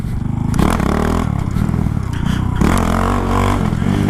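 A Honda Grom motorcycle fitted with a 17-tooth rear sprocket rides hard, its small engine buzzing loudly with revving surges and gear changes, plus faint clattering, close to the rider.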